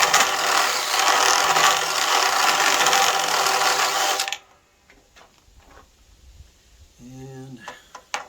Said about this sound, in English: Takes a lot of torque drilling them.